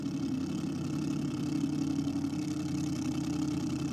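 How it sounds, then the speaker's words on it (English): A nostalgia drag racing car's engine rumbles steadily at a low, even pitch during a burnout, a constant mid-distance drone without sharp revs and no voices. "Just playing with the throttle on the burnout."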